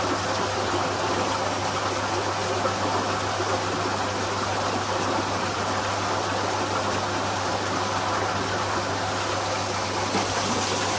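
Continuous rushing water flows steadily through a hydraulic flume, rising at a bridge constriction; a dense, even wash with a low hum underneath, unchanging throughout.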